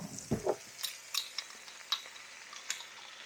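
Garlic added to a pot of red beans and rice sizzles softly while a spoon stirs and scrapes against the pot in irregular bursts, faint and close, with no voices.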